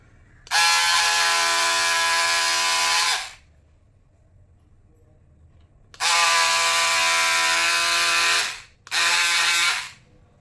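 An electric cutting machine slices through a stack of blouse fabric in three loud, close high-pitched whirring bursts of motor buzz. Quiet gaps separate the bursts, and the last burst is the shortest.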